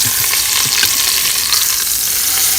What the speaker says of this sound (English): so we have browned our meat on both sides